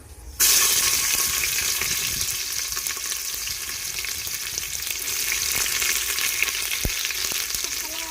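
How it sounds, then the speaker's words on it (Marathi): Chopped onion sizzles in hot oil with whole garam masala for yakhni pulao, a loud, steady close-up frying hiss that lasts throughout, with occasional stirring scrapes and no talking. "थोडंसं आता ह्याला फ्राय करूया चॉकलेटी होईपर्यंत फ्राय करायचं आपल्याला"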